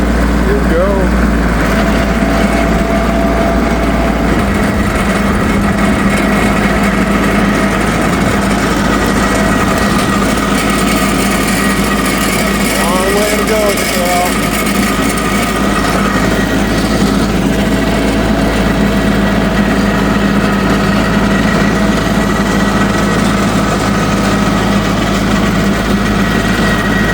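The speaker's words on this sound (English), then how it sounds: "now I'm tilling it" A gas-powered tiller churns through soil with a steady, loud engine drone that holds for the full stretch, with brief shifts in pitch as it works.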